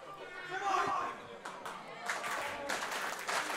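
Wrestling crowd at an independent show cheering and clapping for the Invisible Man, a steady wash of applause and voices with bursts of louder cheering, fairly close and filling the room.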